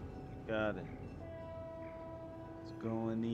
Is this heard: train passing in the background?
yes